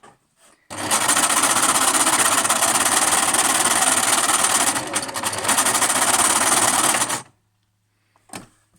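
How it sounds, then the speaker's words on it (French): A sewing machine stitches fabric in one long continuous run of steady, fast mechanical rattling, close and loud, with a short pause midway before resuming, then stopping abruptly, followed by a faint brief tap. "donc je vais coudre ici et ici"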